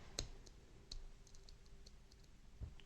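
Quiet, sharp pin clicks come from an ABUS 65/40 padlock being picked, a handful of small, irregularly spaced metallic ticks close up against near silence.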